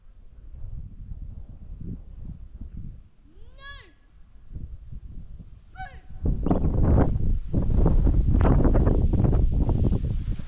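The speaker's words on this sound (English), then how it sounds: "Still a bit windy, but not that bad as it used to be." Steady wind at Uluru and Kata Tjuṯa buffets the microphone outdoors, growing louder and rougher in the second half, with a few bird chirps and people talking nearby.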